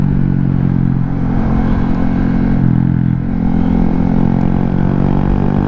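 A Honda Grom small motorcycle idles and runs nearby with a loud, steady engine drone and a slight dip in pitch midway.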